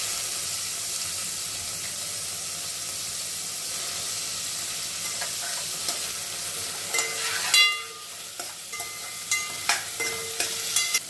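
Onion and tomato frying in a pan with curry leaves for soybean khichdi, a steady hiss of frying under occasional clinks and scrapes of stirring toward the end.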